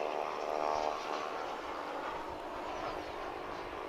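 A jet airliner taxiing and turning toward takeoff at Dallas Fort Worth International Airport, its engines giving a steady, moderately distant broadband roar with a faint tonal whine and no talk.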